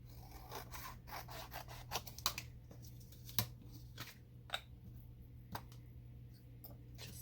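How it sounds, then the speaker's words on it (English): Paper or card being cut away during hand bookbinding, heard as faint, scattered snips and small rubbing scrapes over a low steady hum, with no voices. "We're going to cut a little bit of this away."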